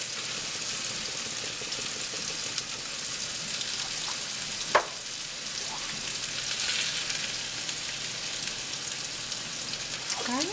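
Marinara sauce with basil, salt and pepper simmers in a pan with a steady, soft, low bubbling and sizzling, plus a few faint clinks of a utensil.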